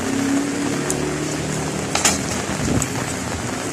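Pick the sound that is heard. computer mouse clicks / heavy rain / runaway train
heavy rain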